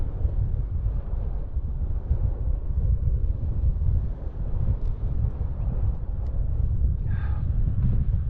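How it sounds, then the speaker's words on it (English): Steady, heavy wind buffeting the microphone during a bike ride, a constant low rumble with no pauses, close and loud throughout. "It's gotten really windy right here."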